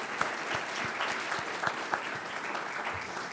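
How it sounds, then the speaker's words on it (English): An audience applauds a national-champion women's golf team at a live event, steady dense clapping with a few sharper claps standing out, moderately distant and filling the room. "Let's give them a round of applause."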